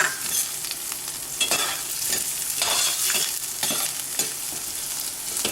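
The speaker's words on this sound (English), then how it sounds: "Now I'm adding a little bit of coconut oil and I'm going to fry my onions and tomatoes" Onions and tomatoes fry in coconut oil for a keto egg curry, a steady close sizzle with scraping and stirring bursts throughout.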